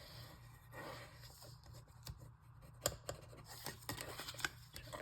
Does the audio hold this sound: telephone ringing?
no